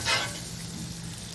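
Butter hits a hot cooking surface and sizzles right away, a close, steady frying hiss that holds evenly for a moment with no talk over it.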